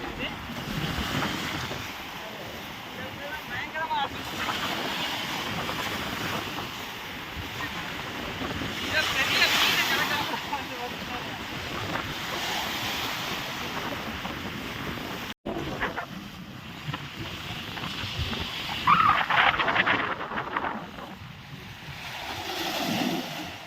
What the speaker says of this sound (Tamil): இங்கே தண்ணி தெரிச்சு